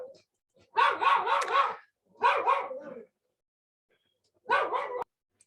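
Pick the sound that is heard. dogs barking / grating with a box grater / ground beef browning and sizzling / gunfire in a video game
dogs barking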